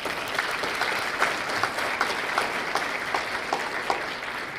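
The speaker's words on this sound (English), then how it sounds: "let's do a round of applause for our mentors" Audience at an accelerator demo day applauds its venture mentors, a steady wash of clapping from a sizeable crowd with scattered sharper claps standing out throughout.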